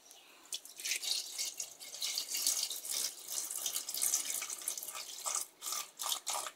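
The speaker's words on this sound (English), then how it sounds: "I'll pour the milk in." Milk being poured into a pot, a close, continuous splashing trickle that breaks into a few separate glugs toward the end.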